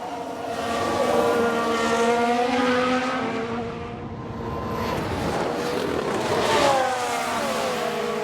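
A Ferrari Formula One car from the 1992 season in F1 Manager 22 screams past at high revs, pitch sweeping up and down as it accelerates and brakes, loud and steady without speech.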